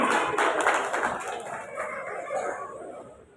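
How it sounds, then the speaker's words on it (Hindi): Hands clap at a community gathering in Jodhpur, with a burst of clapping that thins out while a sustained crowing or tonal call carries on above it. "ताली बजाते रहे"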